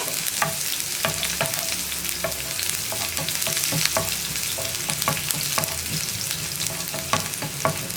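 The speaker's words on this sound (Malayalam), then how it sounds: "ഉള്ളി ഒന്ന് ഇളക്കി കൊടുക്കുക" Onion frying in a pan while being stirred, a dense steady sizzle punctuated by frequent rhythmic scrapes and knocks of a spoon against the pan, near and loud, no speech.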